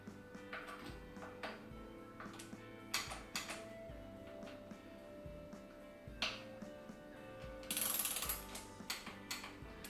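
A ratchet clicks in repeated bursts while tightening the stem bolts on a small bike's handlebars, with short metallic runs of pawl clicks, brief pauses and a few light clanks of parts.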